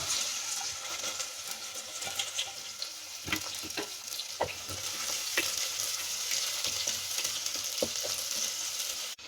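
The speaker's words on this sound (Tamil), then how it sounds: "இப்போ வந்து வெந்தயம் நல்லா பொரிய ஆரம்பிக்குது இந்த டைமிங்கில் வந்து நம்ம எடுத்து வச்சுருக்க பிரண்டையை வந்து இதில் போட்டுடலாம்" Fenugreek seeds crackle and splutter in hot oil, then pieces of pirandai (adamant creeper) are fried in it for a kuzhambu, giving a steady close sizzle with scattered pops and light clatter.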